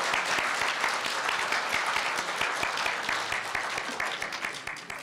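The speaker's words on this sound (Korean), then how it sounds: "큰 박수로 축하해 주시기 바랍니다" Audience at a Korea University ceremony marking the 70th anniversary of the Korea University newspaper applauds an award presentation, a full, steady burst of clapping that starts to thin toward the end.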